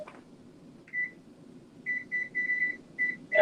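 Kitchen timer being set for five minutes: a short electronic beep, then a run of brief high beeps in an uneven series, loud against a low hum of background noise.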